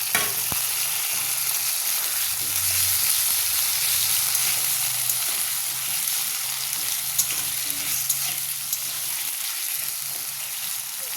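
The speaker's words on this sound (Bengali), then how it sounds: "এইবারে কেটে রাখা ডাটা আর আলুটাও দিয়ে দেবো, একসাথে ভাজা হতে যায়।" Chopped drumstick stalks and potato fry in hot oil for a fish curry, giving a loud, steady sizzle with occasional stirring scrapes throughout.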